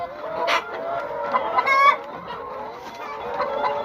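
Laying hens in a Jamaican layer house with nest holes keep up a dense, loud chorus of overlapping clucks and squawks that swells briefly partway through.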